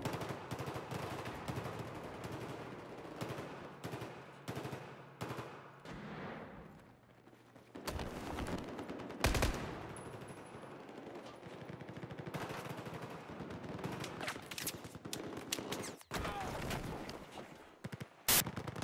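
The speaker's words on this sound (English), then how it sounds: "Watch here as he just fires continuously, allowing the rifle to recoil upwards" Sustained automatic rifle fire in Battlefield 4, long rapid bursts of gunshots close and loud, with distant battle noise and a voice talking underneath.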